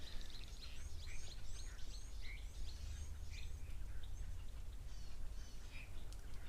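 Birds calling at a waterhole, many faint high chirps and tweets scattered across a constant outdoor background rumble, distant and quiet with no talking.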